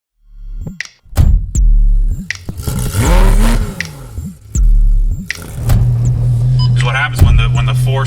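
A Porsche 911 GT3 RS engine blips and revs in short bursts, then settles into a loud sustained accelerating roar, close up, with brief quiet gaps between the early revs.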